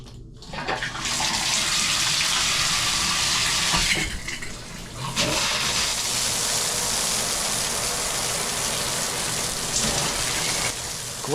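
A hotel-room shower runs at strong pressure with a steady, dense hiss of spraying water that continues for several seconds. A short shift in the spray partway through suggests the stream being moved or interrupted.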